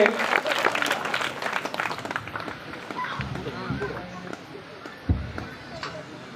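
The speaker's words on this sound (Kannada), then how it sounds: "ತಾವೆಲ್ಲರೂ ಜೋರಾದ ಚಪ್ಪಾಳೆ ಮೂಲಕ ಅವರಿಗೆ" An audience applauds at a devotional gathering honouring a revered elder. Loud, dense clapping fills the first couple of seconds, then fades as a voice speaks over the sparser sound that follows.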